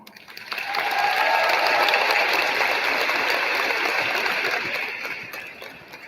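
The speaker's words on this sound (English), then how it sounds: "Let's give a big round of applause for Emma Manuel." Steady crowd applause at an awards ceremony, dense clapping that swells quickly, holds for several seconds, then gradually tapers off.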